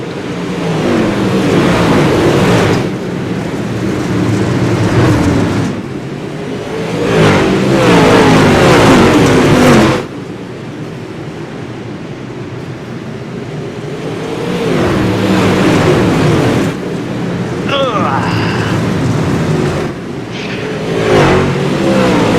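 Modified race cars roar around an oval track on worn tires, engines surging loud and close in long revving passes with brief dips between, no talk.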